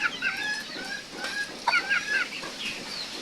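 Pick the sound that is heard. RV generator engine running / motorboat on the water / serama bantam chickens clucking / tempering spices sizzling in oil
serama bantam chickens clucking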